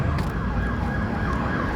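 A wailing siren heard amid low traffic rumble, its tone sweeping steadily, moderately loud for a brief moment.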